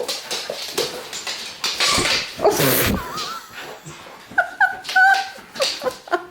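A dog whimpering and yipping indoors, high thin whines and short squeaks in uneven bursts, with a brief exclamation from a person.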